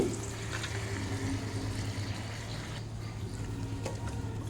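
Ginger garlic paste sizzling and frying in a pan with chicken for a spicy chicken curry, stirred steadily with a continuous hiss and gentle scraping, close and alone without talk.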